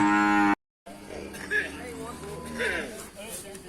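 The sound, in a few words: young cow mooing at a cattle market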